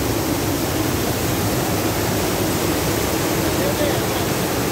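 Water spilling over a small wooden weir at a fishing spot, a steady dense rushing wash that stays even and close for the whole stretch.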